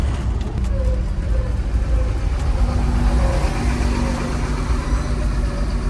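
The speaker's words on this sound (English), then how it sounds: "the real test is to see how she idles after a drive" A restored 75-year-old truck engine idles steadily after a test drive, a loud, even low rumble with a constant mechanical hum and no breaks.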